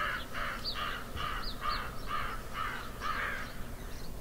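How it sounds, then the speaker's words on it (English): Crows cawing outdoors on a cold morning along the road to Taos, a series of about eight harsh, evenly spaced calls at moderate distance over quiet background. "A lot of birds here."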